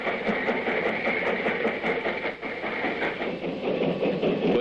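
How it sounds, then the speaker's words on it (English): An 1890 steam locomotive with six driving wheels rolls along the rails, its chuffing and rhythmic clickety-clack steady, close and loud throughout, with no voices. "Museum piece with its 6 churning driving wheels was new in 1890, it was considered a Samson of the rails."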